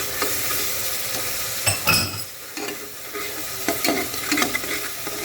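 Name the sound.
frying red chilli masala in a pan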